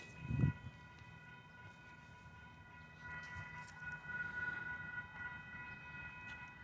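A southbound freight train led by Union Pacific and BNSF locomotives passes, a fairly faint, steady rail rumble with sustained horn-like tones swelling midway.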